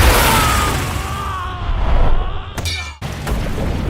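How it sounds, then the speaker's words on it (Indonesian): Large explosion from an attack in an animated fantasy battle, a loud roaring blast that rumbles on for seconds, cuts off abruptly and then resumes. "Serangannya menghasilkan ledakan besar"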